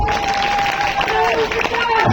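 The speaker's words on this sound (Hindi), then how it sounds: "इनके लिए जोरदार तालियां बजा दीजिए।" Applause from a crowd at a political rally in Sagarpur, Dwarka, a dense, continuous patter of clapping heard close, with a voice talking over it.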